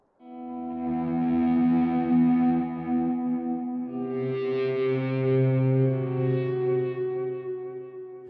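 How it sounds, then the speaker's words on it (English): Sustained distorted guitar chords swell and shift, smeared into a smooth, string-like wash with no voices over it. "I've added a few distorted guitar parts which are doing a kind of string-like sound"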